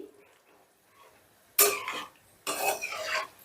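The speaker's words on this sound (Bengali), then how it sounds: "একটু নাড়াচাড়া করে জলের সাথে গ্রেভিটা মিশিয়ে দিচ্ছি" A spoon scraping and stirring water into potol gravy in a pan, two short bursts of clatter and swishing after a near-silent start.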